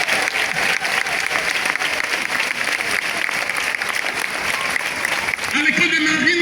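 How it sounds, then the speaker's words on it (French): Church congregation applauding in honour of Mary, sustained dense clapping throughout, with a voice speaking over it near the end. "On peut acclamer Marie."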